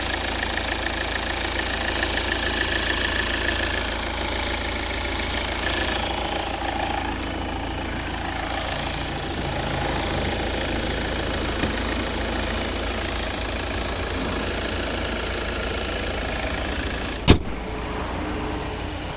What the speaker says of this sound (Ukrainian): У нас робота двигуна.